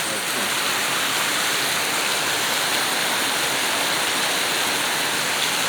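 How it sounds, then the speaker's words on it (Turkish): Summer rainwater rushes and pours during a June storm in Adana, a loud, unbroken wash of hiss and splash that holds steady from start to finish. "Su böyle, su böyle akma akıyor."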